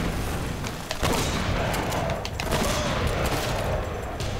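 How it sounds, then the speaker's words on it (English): Grenade explosions and rapid gunfire in a hardcore Uncharted firefight, a loud, dense continuous barrage of shots and blasts with almost no talking. "those grenades are so freaking annoying"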